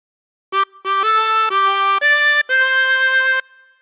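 A reedy 24-hole tremolo harmonica plays the opening phrase of Happy Birthday in clear held notes, rising in pitch, alone with no talking.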